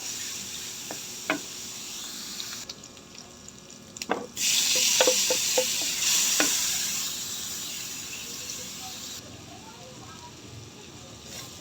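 Ginger and garlic sizzle while sautéing in hot oil for talbos ng kamoting kahoy, a soft steady frying hiss with a few clinks of a utensil against the pan, rising as ingredients go in.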